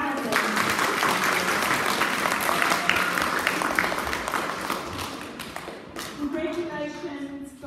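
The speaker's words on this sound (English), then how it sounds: "Let's give him a round of applause." Students and staff at an end-of-term school assembly clap for an award winner, a dense, loud round of applause that thins out toward the end as a voice begins speaking.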